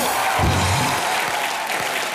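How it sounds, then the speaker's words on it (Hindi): A television comedy show's studio audience applauds loudly in a steady, dense burst of clapping, with no talking over it. "एक बार मिस्टर अभिषेक बच्चन के लिए जोरदार तालियां।"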